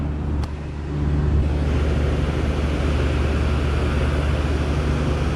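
The blower motor of a hanging heater runs with a steady, even whir and a low hum, rising slightly after the first second and then holding constant and fairly loud throughout.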